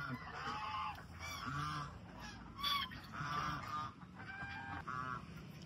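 Pekin ducks inside a bird shed give repeated nasal honking quacks, several birds calling in overlapping bursts, close and fairly loud with no talk.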